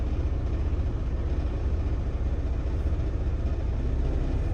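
A Freightliner Cascadia truck's engine drones in a steady, dense rumble during a parked forced regeneration, close and constant with no clear break.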